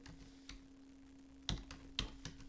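Computer keyboard keys are tapped in short, irregular clicks, a few sparse presses followed by sharper, closer keystrokes, over a faint steady electrical hum.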